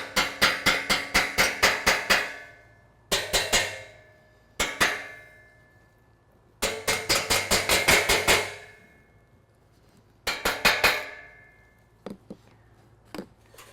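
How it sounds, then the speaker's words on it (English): Rapid bursts of sharp metallic taps of a hammer on an aluminum car grille, clustered in quick runs with short pauses, ringing slightly with a changing pitch; close and fairly loud. "So what I can do now is I can take this hammer"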